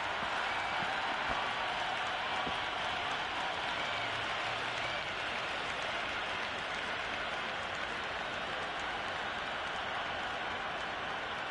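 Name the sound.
crowd cheering and applauding in the stands, Cricket 26 video game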